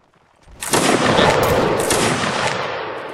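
Musket volley fire in Mount and Blade Warband Napoleonic Wars: a dense, crackling burst of many shots fired together, rising sharply and holding as a loud sustained rattle for several seconds with no talk over it.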